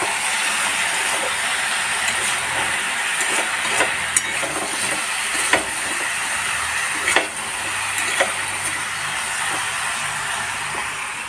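Chopped tomato frying in a hot pan gives a steady bright sizzle, close and loud, with occasional sharp crackles and spatters. No talking.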